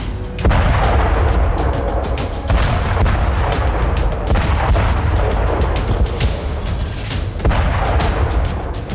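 Artillery fire and explosions from the war in Ukraine, a loud run of repeated heavy booms and sharp gunfire-like blasts at irregular intervals over a rumbling background, with no speech.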